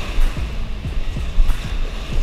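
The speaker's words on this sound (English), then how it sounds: "Oh man, these waves are gonna mess with us." Surf rolling onto a Kenai River beach during salmon dipnetting, a steady broad wash of waves with repeated low swells and some wind rumble, close and fairly loud, with no talk.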